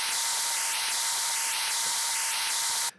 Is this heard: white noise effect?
yes